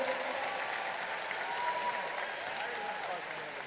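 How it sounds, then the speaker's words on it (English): Graduation audience applause, a dense sustained wash of many hands clapping, steady and fairly faint, filling the whole stretch without a break. "How about a round of applause for Mr. Ravenscraft for reading the first set of names."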